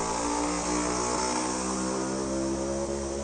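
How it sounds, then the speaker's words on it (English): A loud, steady engine drone with a buzzing, layered tone carries on throughout, like motorbikes running close by, with no voices. "These motorbikes are so loud."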